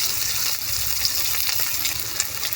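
Chopped onion and green chili fry in hot oil in a pan in a village kitchen, a steady bright sizzle with small crackles and pops, close and continuous, without talk.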